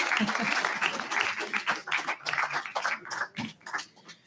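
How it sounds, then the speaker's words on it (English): An audience at a talk applauds in a round of clapping, a dense patter of many hands that thins out toward the end, with some voices mixed in. "let's give them a round of applause"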